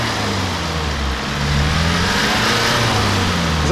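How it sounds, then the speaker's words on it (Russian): A BMW X5 E53 engine under load off-road, a steady loud engine drone with rising whine tones where the turbo can be picked out, close and continuous without speech. "О, турбинку слышно."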